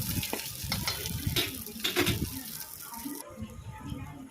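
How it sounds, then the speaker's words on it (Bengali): Whole cumin, whole garam masala and bay leaf crackle in hot oil, a close, busy sizzle with stirring scrapes, fading somewhat toward the end. "এখন গোটা জিরে, গোটা গরম মশলা, তেজপাতা ফোড়ন দিতে হবে ও ভাজতে হবে যতক্ষণ না সুন্দর গন্ধ বেরোয়।"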